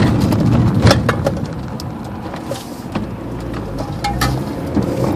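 A car drives along a road in the morning, its engine a steady mid-level hum with road noise and a few clicks and rattles inside the cabin, no talking.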